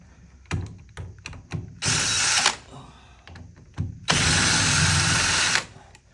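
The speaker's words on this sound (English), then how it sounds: "we'll be taking the two middle screws off of the bracket" A power driver backs screws out of a cooler hinge bracket in two loud whirring bursts, with clicks and tool handling sounds between them.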